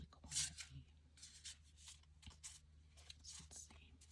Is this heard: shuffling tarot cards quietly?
yes